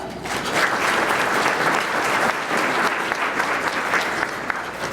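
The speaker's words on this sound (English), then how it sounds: "So if we can give them a round of applause." Audience at a chamber of commerce luncheon breaks into steady, dense applause for a sponsor, clapping holding loud and even throughout before tapering slightly at the end.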